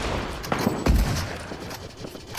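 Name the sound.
sniper rifle gunfire in the video game Fortnite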